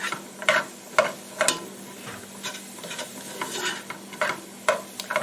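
Onions stirred in a pot with no oil, a dry scraping and scuffing repeated in irregular strokes with a faint sizzle underneath, close and moderately loud, no voices.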